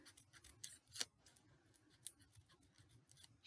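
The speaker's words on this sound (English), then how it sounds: "you can do whatever you want when you're cutting paper snowflakes" Scissors cut through folded paper to make paper snowflakes, producing quiet, close, irregular snipping and rustling bursts in a steady series with no voices.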